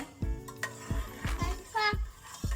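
A spoon stirs and scrapes around a pressure cooker pot of split moong lentils in water in several distinct strokes, with soft clinks against the metal and a faint voice in the background.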